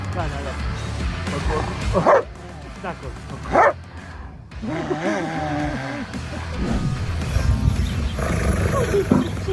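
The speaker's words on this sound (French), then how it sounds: "Et ce chiot n'est manifestement pas content d'être taquiné." A puppy growls and yaps in short bursts, close by, while a person talks over it throughout.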